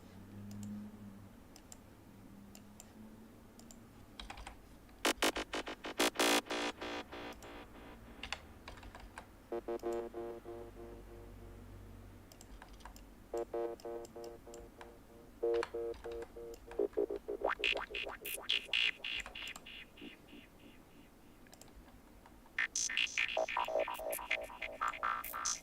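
A square wavetable synthesizer patch with a metallic edge, played as a series of bright, buzzy harmonic notes in short bursts and phrases separated by quieter gaps, with no voices.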